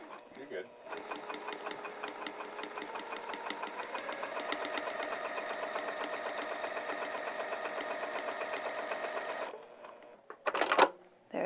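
Sewing machine stitching a vinyl project bag, running steadily for about nine seconds with a fast, even mechanical chatter, then stopping; people talk softly alongside.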